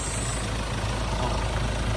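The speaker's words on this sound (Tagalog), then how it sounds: "Ganda ng timing ng makina niyan mga bossing." A Ford Everest diesel SUV with automatic transmission idling nearby, a low, steady engine rumble with an even rhythm and no voices over it.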